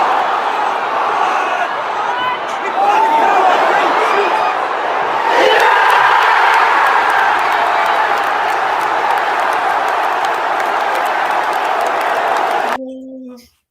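A packed football crowd roars and cheers at a Newcastle United home match against Brighton after a late Newcastle goal in the 91st minute. It is a loud, sustained, dense roar that swells slightly, holds steady, then cuts off abruptly near the end.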